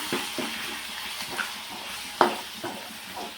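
Ginger garlic paste and turmeric frying in a pan, with soft sizzling under scattered stirring clicks and a sharper scrape or clink partway through, fairly close and moderate in level.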